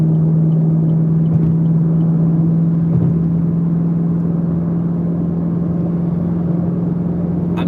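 A Chevrolet Camaro ZL1 with cooked high-flow catalytic converters cruises along a road, giving a loud, steady low engine drone with a constant hum and road rumble, without revving.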